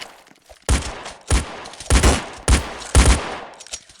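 Gunshots from the Roblox game Murder Mystery 3 ring out in five sharp, loud blasts spaced about half a second apart, with a brief pause between some shots.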